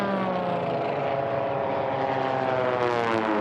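Racing biplane engines at the National Championship Air Races drone loudly and steadily, a dense propeller roar with a slight rising pitch as the planes pass close by, no talk over it.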